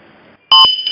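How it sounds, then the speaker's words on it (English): One loud electronic beep from an RFID-based bus announcement system, steady and piercing, sounding after a soft background murmur, then fading into quiet room noise. "once I hear the beep"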